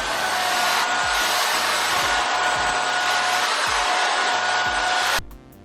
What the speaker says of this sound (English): But there's one final step, and it involves this vacuum.